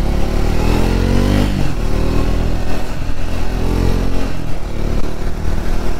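A Triumph Speed 400 motorcycle is ridden on a test ride, its engine droning loudly and close throughout with shifting revs and a rising then settling pitch.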